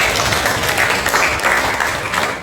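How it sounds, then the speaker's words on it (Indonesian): Students in a classroom applaud a classmate's presentation in a religious studies lesson, a brief, steady burst of clapping heard close and fairly loud. "berikan tepuk tangan kepada Mbak Cika"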